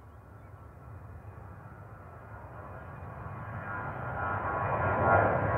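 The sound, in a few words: Ryanair aircraft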